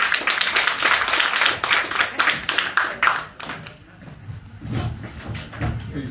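Audience applause breaks out at a church conference gathering in Memphis, a room full of hands clapping loudly and steadily for a few seconds before thinning out to scattered claps and low crowd murmur.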